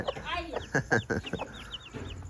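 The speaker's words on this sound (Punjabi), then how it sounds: "ਮੁਰਗੀ ਨੇ 3 ਚੂਜ਼ੇ ਕੱਢੇ ਨੇ।" Hen with three newly hatched chicks clucking nearby, short soft clucks mixed with high thin chick peeps in irregular bursts, with faint background voices.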